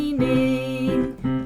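A piano plays a simple left-hand bounce pattern for a slow song, with sustained low notes and short repeated bounces between them.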